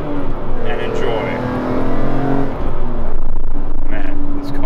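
A BMW M3 CSL engine while driving: a loud, steady cabin engine drone with rising and falling revs and shifts. Someone talks over it for much of the time.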